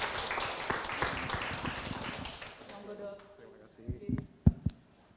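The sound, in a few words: audience applause for a doctor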